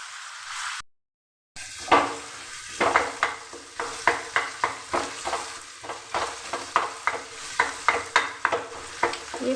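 Boiled potatoes with fried onion are mashed and stirred in a pan with a metal spatula, giving close, rhythmic scraping knocks over a soft sizzle after a brief silence, with no talk.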